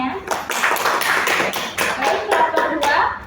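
A classroom audience claps for a student after a presentation, a brisk burst of many hands at close range with voices mixed in.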